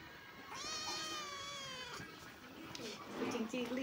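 A cat meows in a long, wavering drawn-out call indoors, followed by softer mewing, with household voices faint in the background.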